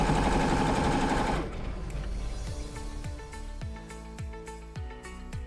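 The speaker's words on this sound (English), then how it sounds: "We go ahead and wind the machine so that we start sewing." An electric sewing machine stitches fabric for a custom kaftan dress, a steady fast mechanical whirr that stops and then restarts as a run of short rhythmic bursts, close and clear with no talking.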